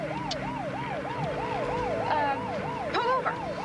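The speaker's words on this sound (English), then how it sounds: "Don't try to outrun a police car." A police car siren wails in a rapid repeating up-and-down pattern, loud and close, with a second siren tone briefly overlapping near the end.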